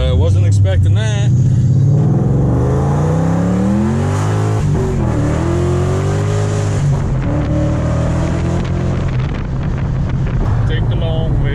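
A supercharged 750 hp Mustang GT 5.0 Coyote V8 with a six-speed manual pulls hard with loud, rising engine roar and wind buffeting, pitch climbing and dropping through gear changes, with voices talking over it.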